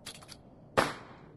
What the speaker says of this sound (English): Wait, pop the fireworks.